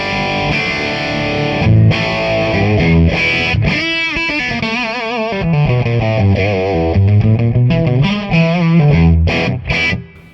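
Crunchy, overdriven electric guitar riffing through a Fender Deluxe Reverb tube amp, loud and close, with chords and single-note runs ringing out, no voices.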